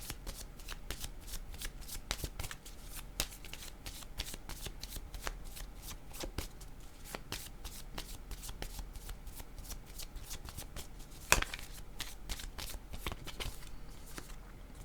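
Playing cards shuffled for a card reading, a long run of soft rapid riffles and flicks up close at low volume, with one sharper slap near the end and no talk.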